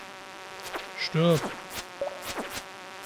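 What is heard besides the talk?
buzzing fly enemy in the video game Stardew Valley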